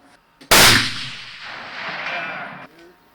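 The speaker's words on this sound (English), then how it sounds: "Let's keep shooting." A single loud rifle shot cracks at a shooting range used by new big game hunters, followed by a long rolling echo that fades over about two seconds.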